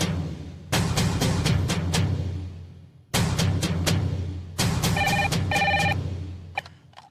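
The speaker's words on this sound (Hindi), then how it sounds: "हाँ हाँ, तस्वीर जी, आपके लिए फोन है" Telephone bell rings in bursts in a Hindi TV drama scene, three loud trilling rings separated by short gaps, close and clear with no talk over it.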